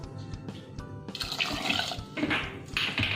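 Hot water poured into a pot for carrot, beetroot, tomato and leek soup, a close splashing gush that starts with a few drips and builds to a steady pour, with no talking.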